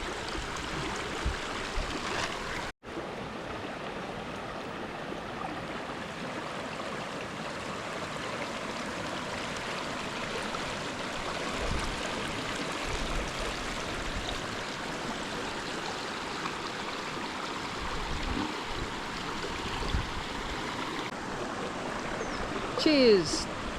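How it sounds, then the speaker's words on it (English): Davies Creek flows along the Turtle Rock Circuit walk with a steady, soft rushing wash of water that runs unbroken for nearly the whole stretch, apart from one brief dropout early on. "Stop here and just enjoy this beautiful creek."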